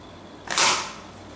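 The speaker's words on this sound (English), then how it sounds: "Push the board in, lock it, and gonna shoot it again." A semi-automatic paper Mauser K98 model gun fires once: a single sharp, close snap that rises suddenly and fades quickly into quiet.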